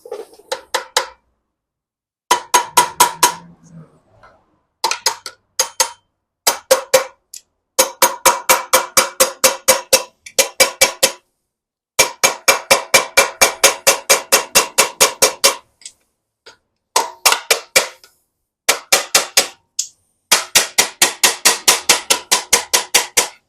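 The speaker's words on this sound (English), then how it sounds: "let's grab a tiny hammer and just tap it in" Rapid bursts of light metallic tapping from a tiny hammer fitting a part into a BMW K100 motorcycle engine come in quick repeated runs separated by short pauses, close and crisp with no voices.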